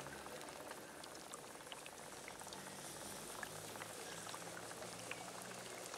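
Flat Coca-Cola with chunks of dry ice dropped in, bubbling and fizzing steadily at close range, a dense continuous seething broken by small pops, with no talk over it.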